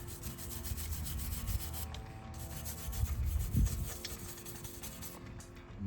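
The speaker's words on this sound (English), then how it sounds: "to get in here and scrub up this stuff that's just been stuck in here for who knows how long" Brushes scrubbing caked-on dirt off a 2002 Honda CR250 motorcycle part in close repeated strokes, a rough rubbing scratch with a few louder bursts, no voice over it.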